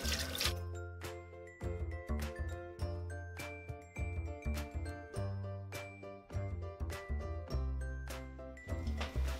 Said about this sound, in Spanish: los voy a enjuagar con agua fría